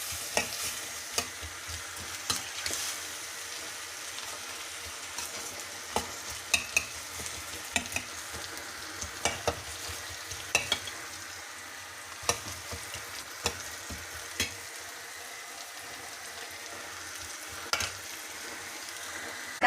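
Semolina upma cooking in a bubbling pan with vegetables and lentils, a steady frying sizzle broken by scattered sharp scrapes and clinks as a spoon stirs it, with no talking.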